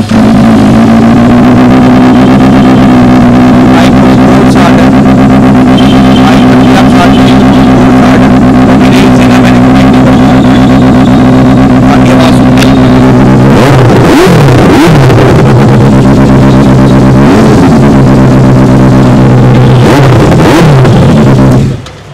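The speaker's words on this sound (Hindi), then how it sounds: "एक बार बाइक के एग्जॉस्ट नोट सुन लेते हैं।" A 2018 Benelli 600i motorcycle fitted with an aftermarket Austin Racing exhaust idles loudly and close, then gives several sharp throttle blips that rise and fall before it cuts off.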